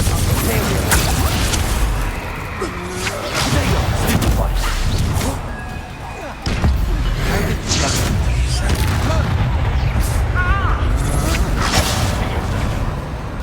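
Confringo spell explosion in the Hogwarts Legacy video game, loud crashing blasts and impacts within a busy, dense battle soundscape.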